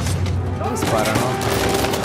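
Gunfire in the video game Uncharted 4, a dense burst of rapid overlapping shots like a firefight, loud and continuous, with voices faintly mixed in.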